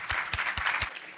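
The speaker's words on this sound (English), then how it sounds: "please give a round of applause for Ehab" An audience claps at the ASU GSV Summit education conference, a brief burst of applause with a few sharper individual claps standing out near the front.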